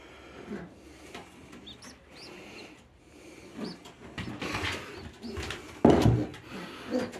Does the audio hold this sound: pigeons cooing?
yes